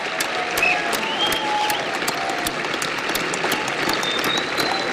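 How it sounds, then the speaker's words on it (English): A keynote crowd at WWDC 2010 keeps up continuous, bright clapping throughout, loud and close, with a few faint tonal sounds in the background. "Well, that sounds like a real applause."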